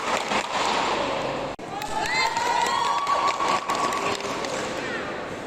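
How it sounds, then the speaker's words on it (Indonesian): Supporters of the South Sumatra pencak silat team cheer and clap in a packed Palembang venue, a dense steady crowd roar with shouts and whistles rising over continuous applause, loud and close throughout. "Sorakan dan tepuk tangan pendukung Sumatera Selatan terus menggema"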